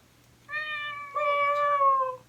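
A domestic cat meows twice in close succession, a clear, drawn-out tonal call followed by a slightly louder second meow, close to the microphone with a faint low hum behind and no talking.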